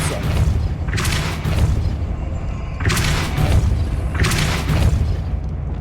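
Heavy force-spell impacts from Hogwarts Legacy, a series of deep booming thuds with bright bursts, roughly three strong blasts over a continuous rumbling game background, loud and close with no talking.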